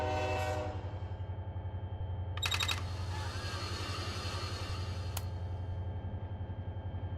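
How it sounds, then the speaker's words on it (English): A locomotive hauls a freight train of about 33 cars in the Run 8 train simulator: a steady, low diesel rumble with rhythmic pulsing, a short horn-like tonal burst midway and a brief click later, with no talk. "Get back in the locomotive and let's go."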